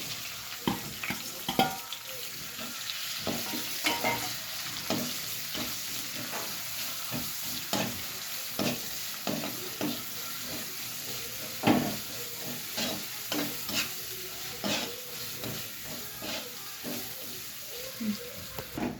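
Onions fry in a pan for noodles, a continuous sizzle broken by irregular scraping stirs, close and fairly loud, with no voices.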